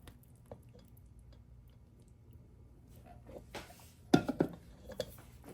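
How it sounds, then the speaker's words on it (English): Melted butter is poured into cake batter for a crunch coffee cake, a faint soft trickle and wet plop rising near the end, with a few small bowl clinks in a quiet kitchen. "So we're just gonna pour this butter that we have melted."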